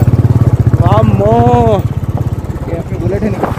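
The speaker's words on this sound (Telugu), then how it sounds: "अपनी बुलेट है" A Bullet motorcycle engine thumps nearby in its rhythmic, pulsing beat on a rough village road near a hidden waterfall in Adilabad, Telangana, while someone talks over it.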